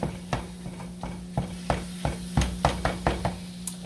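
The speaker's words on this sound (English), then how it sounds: "I'm just browning the ground beef" Ground beef browning in a pan sizzles softly under repeated scraping stirs, with a spatula knocking against the pan in an uneven rhythm.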